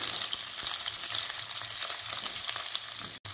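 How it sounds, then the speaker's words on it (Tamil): Onions sautéing in a pan for kara kuzhambu give a continuous, close, bright sizzle with faint stirring, and no talking. "கொஞ்சம் அந்த வெங்காயம் கிளாஸ் பதம் வரைக்கும் நல்லா வதக்கிக்கணும்"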